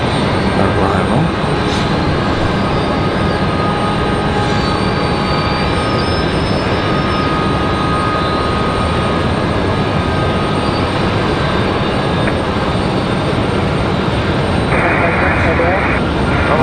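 A Southwest airliner departs Raleigh Durham International, its engines giving a loud, steady roar that holds throughout without fading, with a voice talking over it.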